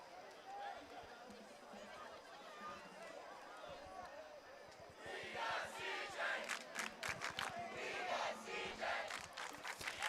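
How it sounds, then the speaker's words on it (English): A varsity football crowd chants and cheers in the stands, a far, rolling mass of voices that swells louder halfway through with rhythmic shouts. ""We Love CJ" chants have made their way into the crowd."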